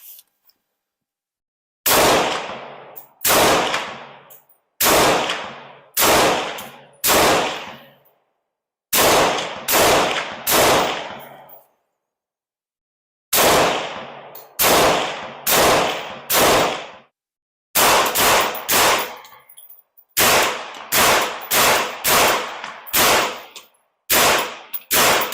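Beretta semi-automatic pistols firing, loud sharp reports in uneven bursts of several shots each, separated by short pauses and one longer gap, every crack trailing off in echo.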